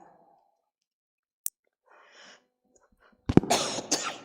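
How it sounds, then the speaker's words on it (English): A single sharp cough bursts out loudly near the end, preceded by a quieter click and faint breathy rustling. "Sorry about the cough."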